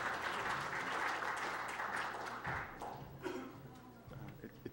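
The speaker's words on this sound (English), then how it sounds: "It's so strange to get a clap." An audience at an architecture lecture session applauds to welcome a speaker, steady clapping that thins and tapers off toward the end, with a few faint voices underneath.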